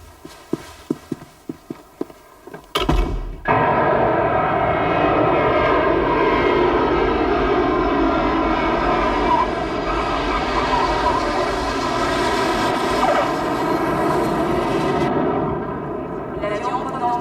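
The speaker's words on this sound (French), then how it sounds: "L'avion provenant de l'aéroport international de Bagdad vient de se poser." An airplane arriving at Baghdad International Airport gives a loud, sustained jet engine roar that sets in abruptly after a few seconds of clicking and knocks, staying steady and close before easing slightly near the end.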